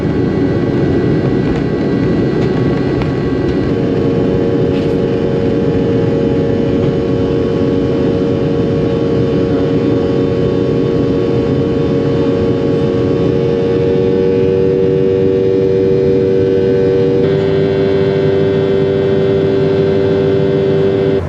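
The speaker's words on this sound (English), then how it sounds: "our aircraft is ready for takeoff." A Sukhoi Superjet airliner takes off, heard from inside the cabin as a loud, steady engine roar with a rising turbine whine that shifts in pitch as the jet climbs.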